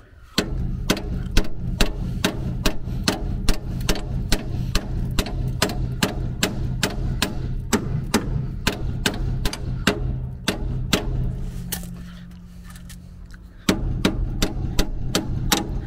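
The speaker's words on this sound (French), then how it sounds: "je vais taper au marteau parce que de toute façon la rotule va être changée" Hammer blows knocking out a steering ball joint on a Citroën C15 during steering rack work, sharp metallic strikes repeating at a steady rhythm, close and loud, with a short pause near the end before the blows resume.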